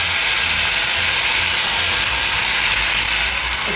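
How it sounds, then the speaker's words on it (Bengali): Onion paste hits hot oil for sorshe boyal, a Bengali mustard boal fish curry, and gives a loud, continuous sizzle. The hiss holds steady and close from start to finish with no voices. "তেল গরম হয়ে গেছে, প্রথমে পেঁয়াজটা দিয়ে দাও।"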